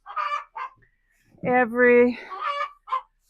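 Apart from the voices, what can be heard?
chickens clucking in the coop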